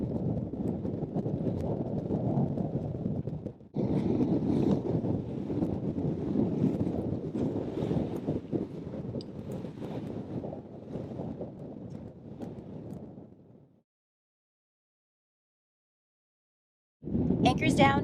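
Strong wind roars across the microphone aboard a sailboat beating upwind in the Bahamas, a loud continuous buffeting rush that drops out abruptly, leaving near silence before the gusts return.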